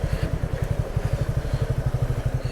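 A motorcycle engine idles close by as the bike is parked near a temple early in the morning, with a steady rapid low thumping pulse and some mechanical clatter on top. No one speaks.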